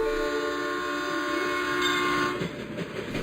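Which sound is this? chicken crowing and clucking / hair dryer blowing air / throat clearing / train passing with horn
train passing with horn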